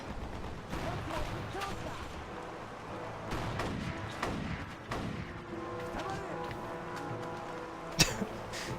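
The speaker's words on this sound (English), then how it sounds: "Four shots with an M1 Garand" M1 Garand rifle shots in a video game: repeated sharp gunshots over continuous battle noise, with one especially loud crack near the end.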